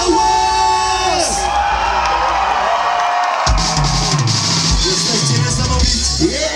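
A large outdoor festival concert crowd cheers, whoops and shouts loudly and continuously, voices swelling into a sustained roar with high yells and thuds, heard from close within the audience.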